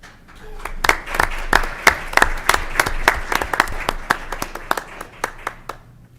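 A modest audience at a school board meeting claps for award winners, distinct individual hand claps ringing out close and sharp in an uneven rhythm, a small group rather than a dense crowd, tapering near the end.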